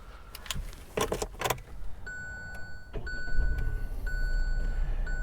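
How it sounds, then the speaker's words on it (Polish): Key clicks and a repeating chime sound, then a Kia Picanto's 1.0-litre, 67 hp three-cylinder engine turns over and settles into a low, steady idle hum. "Odpalmy samochód."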